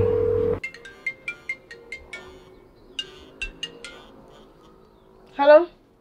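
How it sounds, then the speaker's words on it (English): A phone rings in a Jamaican movie scene: a clear series of repeating electronic ring tones across several seconds, with a lower hum beneath and a louder burst near the end. "Oh, the phone ring."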